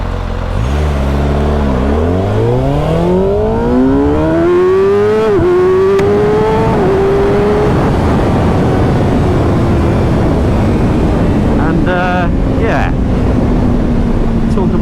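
A 2025 Kawasaki ZX6R sport bike on its stock exhaust accelerates hard, its engine pitch climbing sharply through several gear changes. The bike is loud and close, and wind rushes underneath, before the engine settles into a steady cruising drone.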